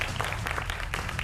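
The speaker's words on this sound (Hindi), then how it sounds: "जोरदार तालियों से अभिनंदन करिए महंत जी का" A studio audience breaks into loud, thick applause to welcome a guest panelist on a debate show, a close and sustained wash of clapping.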